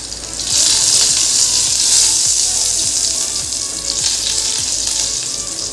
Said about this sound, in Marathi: जिरी तडकली चांगली की मग लसूण चांगला असा लसूण तळून घ्यायचा